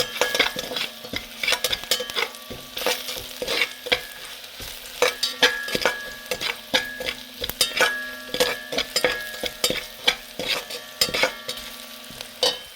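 Salt and turmeric are stirred into a sizzling pan, with a spoon scraping and tapping the metal in a steady, repeated rhythm over a constant frying hiss, close and fairly loud.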